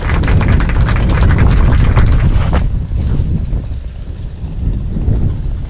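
Steady wind buffets a riverside fishing spot, a loud broadband roar that eases slightly after the first few seconds and carries on alone.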